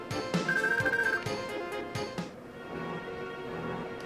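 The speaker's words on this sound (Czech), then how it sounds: "To si můžete dát jako vyzvání telefonu." A ringtone-like electronic melody from the video game Final Fantasy VII rings out clearly over game music, a short rising tone figure followed by layered musical sound with no talk.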